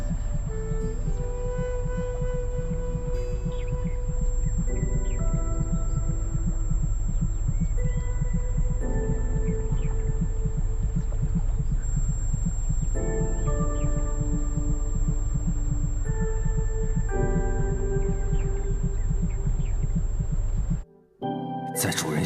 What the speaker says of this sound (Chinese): 凤鸣道会发出心跳的声音。